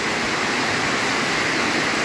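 Heavy rain from a thunderstorm pours down hard, a dense, unbroken hiss and roar that stays loud and even throughout.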